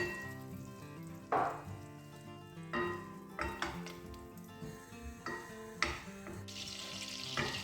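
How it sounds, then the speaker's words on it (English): Seventy grams of butter melts in a pan for a Chinese chicken curry, giving a steady soft sizzle with occasional clinks and stirring knocks of cookware, close and alone without talk. "I've got about 70 grams of butter here. Just melt that down in a pan."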